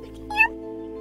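A cat meows once, short and fairly close, over a steady low hum and faint talking in the background.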